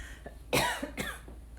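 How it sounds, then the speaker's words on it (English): A single sharp cough, close and fairly loud, followed by a second softer cough about half a second later. "excuse me, I'm going to cough"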